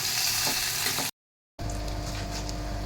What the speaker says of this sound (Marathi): भारीच वाटते ते तेलात लसूण टाकल्यानंतर तो तर आवाज आणि त्याचा तो स्मेल येतोय